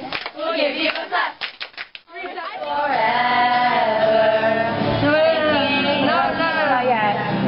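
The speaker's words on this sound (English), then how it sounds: "We'll give you a clap." A group of people clapping at a summer camp, a burst of uneven hand claps at the start before a loud singing voice takes over.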